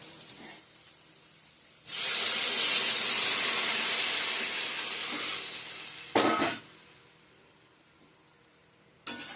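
Water is poured into a hot pan of spiced taro and potato, setting off a sudden loud steam hiss that holds for several seconds and slowly fades, followed by a couple of short clattering bursts.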